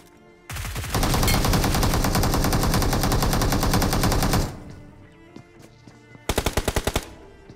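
Automatic gunfire in PUBG Mobile, a loud sustained burst of rapid shots lasting several seconds, followed by a quieter pause and then a second short rapid burst.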